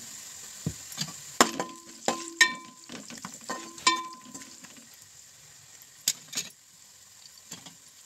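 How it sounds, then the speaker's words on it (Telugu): Onions fry in oil in a pan for a Telugu-style fish curry (chapala pulusu), with a soft, steady sizzle under repeated close clinks and scrapes of a spoon stirring. The stirring comes in bursts with brief pauses, and no one speaks. "ఆనియన్స్ కొంచెం కలర్కి రావాలన్నమాట, కొంచెం బాగా ఆయిల్లో వేగాలి"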